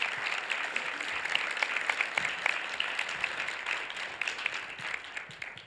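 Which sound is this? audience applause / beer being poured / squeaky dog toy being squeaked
audience applause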